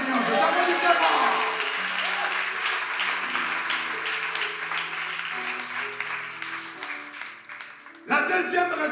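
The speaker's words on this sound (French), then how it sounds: "Applaudissez le Seigneur, applaudissez-moi." Church congregation at a French-language seminar service applauding, a steady wash of clapping under a speaker's voice and sustained tones, with a fresh louder burst of applause just before the end.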